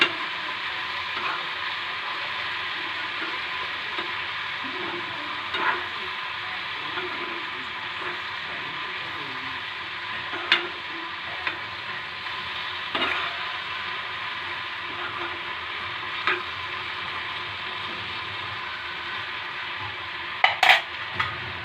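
Bitter gourd sukto vegetables are stirred in a pan over a constant soft sizzle, with occasional light scrapes and metallic clinks of a spoon against the pan spread through the stretch.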